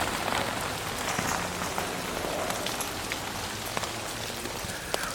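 Meltwater from thawing snow drips steadily out of a tree like rain, a dense continuous patter of drops striking the ground and surfaces nearby, with a few sharper individual plinks standing out.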